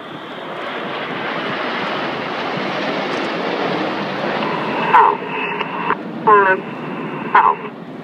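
Red Arrows jet aircraft flying a loop at a Torquay airshow, a broad, steady roar of engine noise under a commentator's voice, with a few short radio-like beeps near the end.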